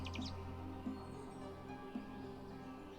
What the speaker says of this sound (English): I can Actually, hear them. Birds.